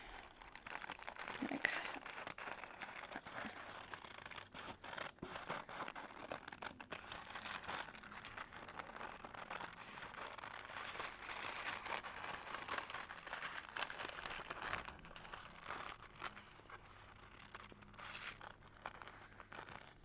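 Repeated crisp crinkling and snipping of wax paper being cut with scissors, close and fairly quiet, continuing in irregular bursts.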